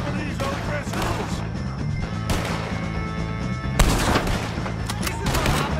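Gunfire in Red Dead Redemption 2 during a shootout with O'Driscoll gang members: repeated sharp shots and crashes layered over a busy, loud game soundscape with music-like tones.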